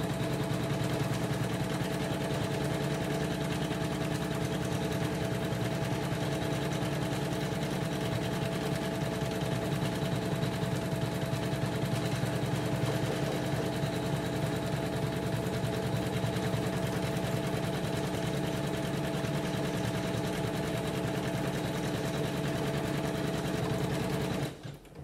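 A Janome Memorycraft 9900 sewing machine embroiders a design, a loud, steady mechanical hum and rapid stitching that runs unbroken for the whole stretch, ending abruptly at the very end.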